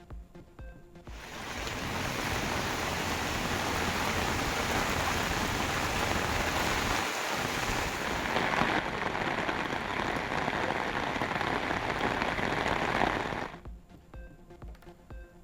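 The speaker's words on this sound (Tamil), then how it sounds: "விழுப்புரம் மாவட்டத்தில் கொட்டி தீர்க்கும் மழையால் பல கிராமங்கள் வெள்ளத்தில் தத்தளிப்பு." Heavy rain pouring down during flooding in Villupuram district, a dense, steady roar lasting most of the stretch before stopping abruptly near the end.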